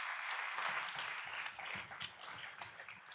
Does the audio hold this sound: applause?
yes